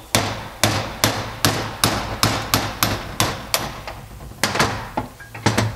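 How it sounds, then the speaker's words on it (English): Hammer blows striking a metal punch to drive out an axle seal from a Porsche 915 transmission, about fifteen sharp ringing knocks in a steady rhythm, close and loud. "to knock out the axle seal, just going to use regular old punch, hammer"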